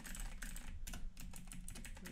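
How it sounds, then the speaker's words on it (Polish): Quiet, rapid clicking of a computer keyboard while text is typed in insert mode in the Vim editor, an irregular run of close keystrokes with no talking. "Coś tam sobie napiszemy."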